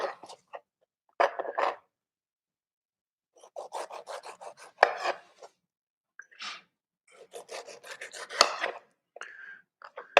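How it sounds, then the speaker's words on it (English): A knife quartering a tomato on a board and scraping out its mushy insides, for cauliflower tacos: close, dry rasping scrapes and cuts in short bursts separated by pauses, with no talking. "So we'll quarter the tomato"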